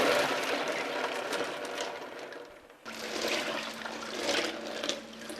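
A cooked smoked beef brisket dropped into a kitchen sink of ice water, heard as a continuous rushing, splashing wash of water at close range, briefly dipping before surging again, with no speech.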